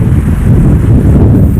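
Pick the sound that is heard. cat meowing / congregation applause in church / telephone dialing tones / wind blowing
wind blowing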